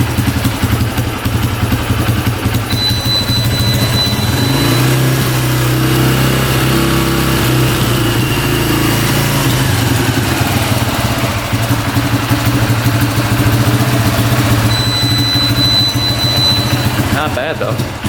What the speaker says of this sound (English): We can turn in the idle a little bit.